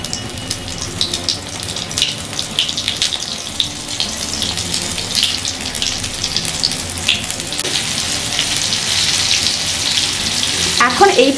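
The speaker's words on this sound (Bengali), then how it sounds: "আর একইভাবে বাকি পকোড়াগুলো তেলের মধ্যে দিয়ে দেবো।" Tomato pakoras dropped into hot oil, giving a loud, continuous bubbling sizzle that swells toward the end, heard close with no talk.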